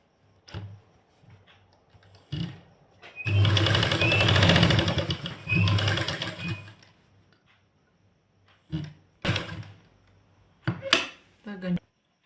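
Sewing machine stitching salwar seams, a dense mechanical whirring run of about three seconds followed by shorter bursts and clicks, close by, with a person talking at times.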